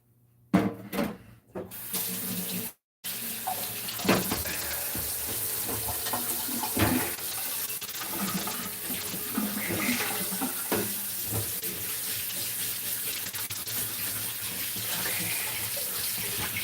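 Water runs steadily from a tap as something is rinsed without soap, a continuous close rush of spray and splashing broken by a few clunks and pauses near the start, with no talking.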